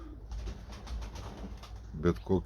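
Pigeons kept by a bird keeper give a few deep, rounded coos near the end, close by, after a stretch of low background noise with faint voice-like sound.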